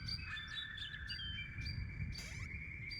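A small bird sings close by, repeating bright high chirps and trills in quick rhythmic phrases over a soft low background hum, alone without any voices.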